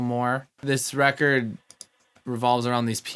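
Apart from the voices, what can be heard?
None of the usual background noises is heard.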